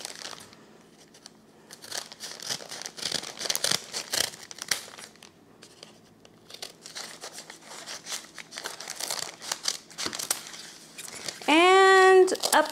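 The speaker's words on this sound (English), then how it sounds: "So then you just start cutting these out." Scissors cut through paper bag material for snowflake ornaments, producing bursts of crisp snipping and crinkling paper rustle at close range, with a short squeak near the end.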